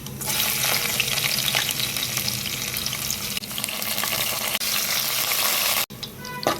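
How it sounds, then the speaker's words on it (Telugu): Shallots frying in a pan for a Telugu methi tomato curry, after cumin seeds have gone in; a loud, dense, continuous sizzle close up, with a short break near the end. "చిన్నుల్లిపాయ ముక్కలు కొంచెం వేగాలండి, కొంచెం ఎర్రగా వేగాలి"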